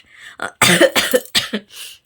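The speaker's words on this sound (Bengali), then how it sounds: "আমার কাশি করেছে" A single person coughs several times in a short burst of harsh, close, loud bursts with brief gaps between them, no talking.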